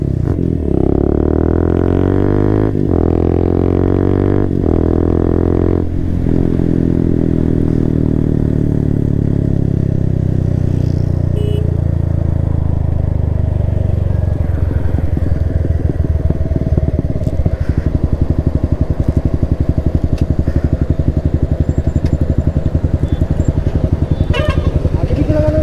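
A group of motorcycles sets off together on a Sunday group ride, with loud engine revving and droning that slides down in pitch and then settles into a steady rumble as they pull away.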